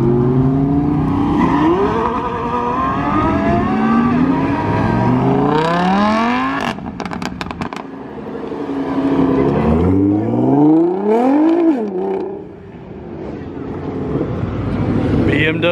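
A Nissan GT-R pulls away hard leaving a Dallas car meet, its engine revving up through several rising gear pulls, loud and close at first, with a sharp popping burst midway and people talking nearby.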